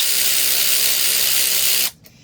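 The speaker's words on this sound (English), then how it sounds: "We'll tighten this nut on" A SeeSii cordless power ratchet wrench whirs steadily as it spins a nut on, a loud close motor buzz that runs for nearly two seconds before cutting off abruptly.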